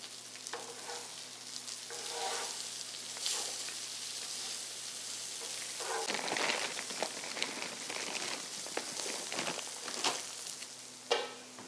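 Onions frying in a pan give a steady, close sizzle and crackle with occasional stirring scrapes, lasting throughout with no talking.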